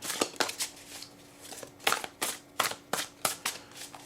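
Tarot cards are shuffled in quick, crisp riffling bursts, about a dozen sharp slaps and flutters in an uneven rhythm, close up and alone.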